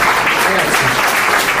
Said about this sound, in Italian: Non vorrei applausi, non vorrei così.